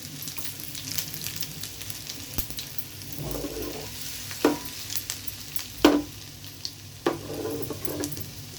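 Cumin seeds, ginger and garlic pieces fry in a ladle of hot ghee in a pan, a steady soft sizzle broken by a few sharp spoon scrapes and taps against the metal, with no voices.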